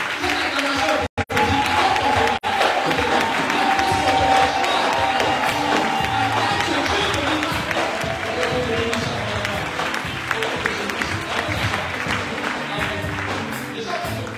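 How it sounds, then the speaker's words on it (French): A church congregation cheers and applauds, a loud, sustained wash of clapping and crowd voices that continues with hardly a break. "Cette acclamation"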